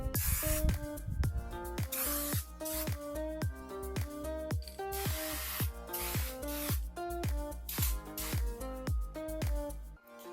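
Bursts of spray paint hiss in a steady series of short, close puffs while dusting coats go onto a roof, each spray separated by brief gaps.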